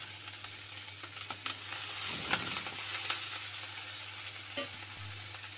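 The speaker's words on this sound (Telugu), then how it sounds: "ఇప్పుడు మనం మెంతి వేసుకోవాలి. ఇది కూడా మంచిగా గోలియాలి." Fenugreek seeds and garlic frying in a pan for tomato rasam give a steady, close sizzle with occasional stirring scrapes, fairly soft and continuous, with no talking.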